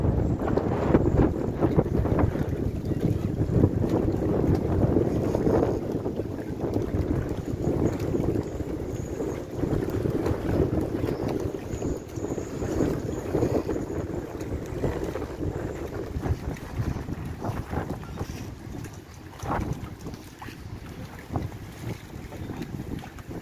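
Strong 50-knot wind buffets the microphone at Port Leucate marina, a steady loud roar with gusting rumble and faint water slap around a moored boat, continuous throughout.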